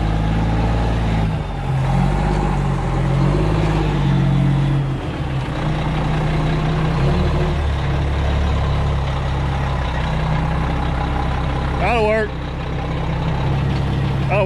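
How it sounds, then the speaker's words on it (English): A truck idles and maneuvers into position outside a house ahead of a basement job, a steady low engine rumble with a brief hiss near the end, while someone talks over it. "Parking a truck in a straight line was such a difficult task."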